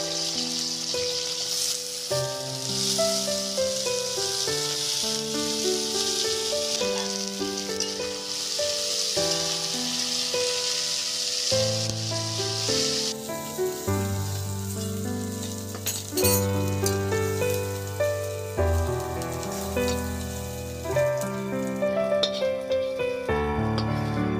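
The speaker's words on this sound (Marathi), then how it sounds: "नंतर कढईत थोडेसे तेल घालून लसूण परतून घेऊयात" Garlic fries in a little oil in a wok, a steady sizzle running under prominent background music with no talking.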